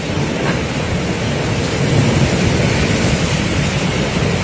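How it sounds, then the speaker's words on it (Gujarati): Heavy thunderstorm over the Sardar town area in Gujarat: a loud, continuous thunder rumble rolls over a dense roar of pouring rain, close and steady with no voices. "કાન પાડી નાખે તેવા પ્રચંડ વીજળીના કડાકા ભડાકા સાથે મેઘરાજાએ મેદાન મારી લીધું છે"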